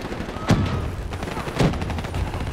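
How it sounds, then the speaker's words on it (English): Two heavy blasts about a second apart in the video game Black Ops 3 campaign, loud and close, with scattered gunfire and battle noise continuing between and after them. "Throw them grenades."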